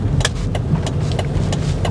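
A 2004 AWD Volvo XC70's five-cylinder engine revving while driving, a steady mid-pitched drone with rhythmic pulsing as it pulls, heard from inside the car with no talk.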